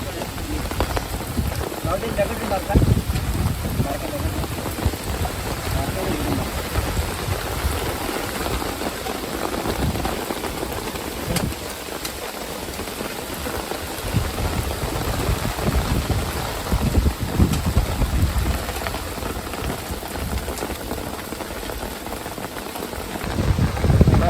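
Heavy rain pours down continuously beside Vihar Lake during a fishing outing, with a broad, steady hiss and gusts of wind. Occasional voices talk over the downpour.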